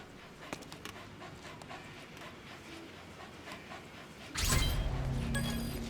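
Dog panting in Metal Gear Solid V, soft steady breaths under a low game ambience, followed by a sudden louder burst of broadband noise near the end.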